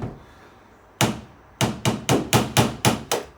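A screwdriver is tapped against a door hinge pin to drive it upward: one sharp metallic knock, a pause, then a rapid run of seven more close, crisp taps.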